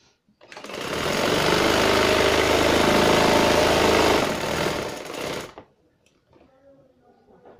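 A sewing machine stitches trousers in one continuous burst of about five seconds, a steady close mechanical whir that stops abruptly, leaving faint handling sounds.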